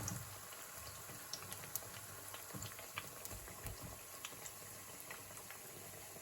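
Green plantain slices frying in hot oil for tostones, a soft, steady bubbling sizzle with scattered small pops and crackles, faint and close.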